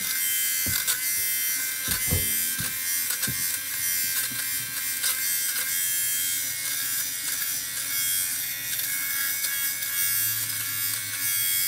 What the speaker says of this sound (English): I'm going to sweater shave this.